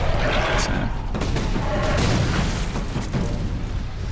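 A bomb squig blowing up in Warhammer 40,000 Space Marine: a loud, dense boom with rumbling blast noise and debris, sustained throughout amid other battle sounds.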